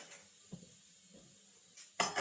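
A lid goes onto a cooking pot of egg stir-fry in a home kitchen: two faint metallic taps, then a louder clattering clink as it settles, all close by.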